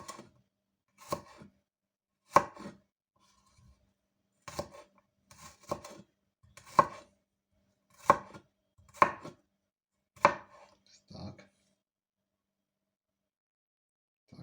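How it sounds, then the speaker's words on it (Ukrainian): A knife slicing garlic cloves into thin slices on a cutting board, heard as about a dozen sharp, close chops in uneven bursts with quiet gaps between, without talk. "Тоді беремо чесник і також нарізаємо ось так пластинками."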